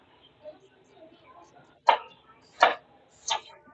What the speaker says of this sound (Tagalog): Pag nabalatan mo na yan, pwede mo siyang hiwain ng slice ng ganito.